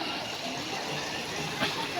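Floodwater in a river at Hanuman Ghat near Hanumangad, Jalna, pouring past as a steady broadband rush that stays even throughout, with no clear voices over it.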